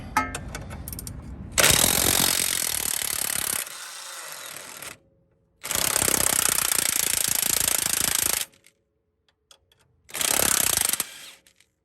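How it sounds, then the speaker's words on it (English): An impact wrench with a 17 mm socket hammers at a Honda Civic axle nut in three loud, rattling bursts of a few seconds each, separated by near silence. "I am going to go ahead and use a 17 millimeter socket on my impact."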